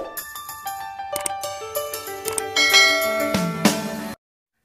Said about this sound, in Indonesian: Nyalakan lonceng di sebelah kanannya